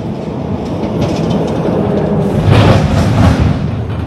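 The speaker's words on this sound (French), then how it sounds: "Ah, il y a un camion qui vient juste en face." Heavy road traffic rumbles past near a muddy woodland path, the noise swelling to a loud close peak midway and then easing, with no talk.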